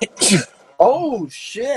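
A single sharp sneeze bursts out near the mic, followed by people talking loudly indoors.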